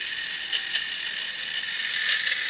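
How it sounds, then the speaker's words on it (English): Wind-up clockwork motor of a Schuco Commando 2000 toy running slowly after winding with a key, a steady high whirring buzz with faint ratcheting clicks, close and continuous with no talk. "And now we take our key, wind it up, and hopefully the motor will work."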